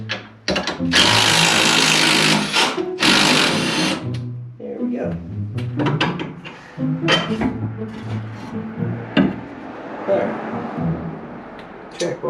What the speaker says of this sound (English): I'm gonna use my adjustable hammer to get this track bar out now.